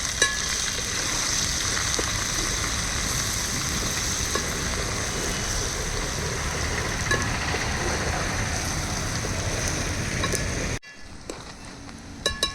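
Ginger garlic paste fries in hot oil with a dense, continuous close sizzle and crackle, stirred at times, before the sound cuts off abruptly near the end, leaving faint clinks.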